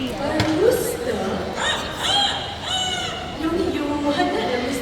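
A rooster crows during a bird show at Bird Paradise in Singapore. Its repeated calls rise over constant crowd chatter and a voice on the show's sound system, in a lively, noisy outdoor setting.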